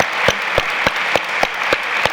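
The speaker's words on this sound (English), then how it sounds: "let's give her one clap now." Audience at an evening literary talk in a museum lecture hall gives slow, unified single claps, about eight evenly spaced sharp hits in rhythm, fairly loud and with no talking between them.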